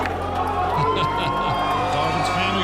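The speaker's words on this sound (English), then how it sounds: "Crowd certainly behind Phil Ivy here." A crowd at a World Series of Poker final table cheers and shouts continuously, a dense roar of voices with a commentator talking over it.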